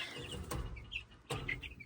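Chickens in a backyard coop cluck and call in short bursts, with a couple of louder sharp calls standing out over a busy, steady flock murmur nearby.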